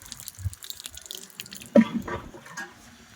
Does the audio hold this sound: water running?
yes